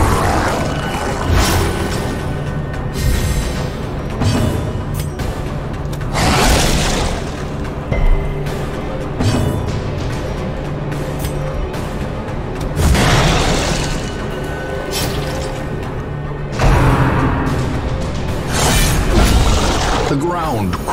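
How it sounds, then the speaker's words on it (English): Deep, quaking rumble of the ground shaking in the dark fantasy game Darkest Dungeon, loud and sustained with repeated heavy surges and crashing bursts layered over a dense game soundscape. "The ground quakes."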